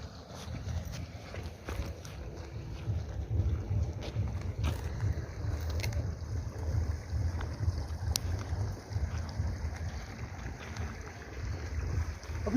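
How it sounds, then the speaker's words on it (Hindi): Water flows steadily and quietly somewhere outdoors, blending with wind buffeting the microphone. A few faint knocks and clicks sound over the continuous low rush. "तो पानी की आवाज़ है"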